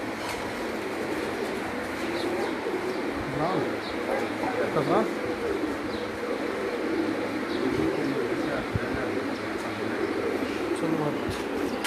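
Someone's breeder pigeons coo softly on a rooftop loft, a low murmuring backdrop under steady talk, with a brief voice or two over it.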